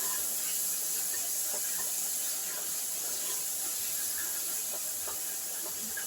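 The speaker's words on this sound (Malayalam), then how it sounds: "എല്ലാം കൂടി ഇതിൽ ഇട്ട് കൊടുത്തിട്ടുണ്ട് നല്ലപോലെ ഒന്ന് വഴറ്റി കൊടുക്കാം" Onions frying in a pan for a tuna fish curry, a steady close sizzle and hiss that holds throughout, with faint scattered crackles and soft voices in the background.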